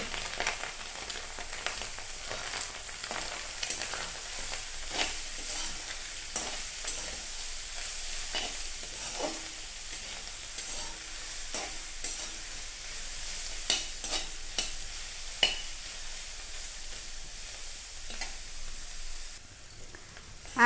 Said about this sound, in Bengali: আর ভাজিটাও ডিমের সাথে ভালো করে ভাজবো।